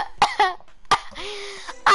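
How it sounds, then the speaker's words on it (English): A person coughs in three sharp, close bursts at roughly even intervals, each a short harsh hack with a voiced tail. "I'm literally coughing."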